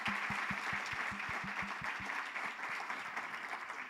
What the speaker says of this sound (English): Can we have a big round of applause for all of our portfolio again?